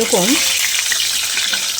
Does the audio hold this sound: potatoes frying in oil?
yes